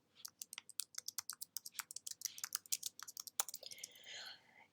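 Fingers type text into a spreadsheet cell on a computer keyboard, a quick run of crisp close keystrokes, followed by a brief soft rustle at the end.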